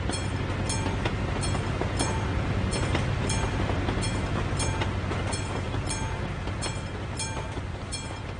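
A slow freight train rolls past in Euro Truck Simulator 2, a steady loud rumble with evenly spaced clickety-clack wheel beats repeating about every half second throughout, no talking.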